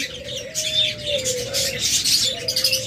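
Cooing and chirping of budgerigars, diamond doves, lovebirds and cockatiels crowd together in an aviary, a steady dense chatter of many birds with a low sustained coo running beneath it.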